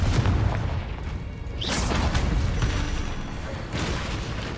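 An explosive fire spell going off in the video game Hogwarts Legacy gives a loud, deep boom with a rushing burst, then a rumbling roar that swells again near the end, amid dense game combat noise.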